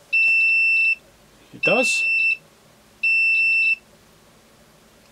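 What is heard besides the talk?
beeper of Hurner HST-S-315 electrofusion welder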